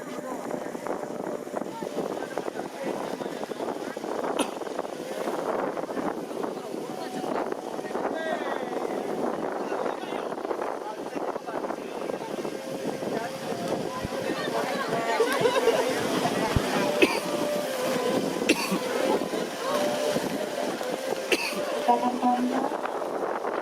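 Strong wind at a kite festival roars steadily into the microphone for the whole stretch, a continuous loud buffeting rush with people talking faintly underneath.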